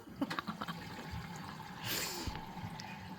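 Water is poured into a dye mix for yarn, a faint, quiet splash and trickle with a brief rushing pour near the middle.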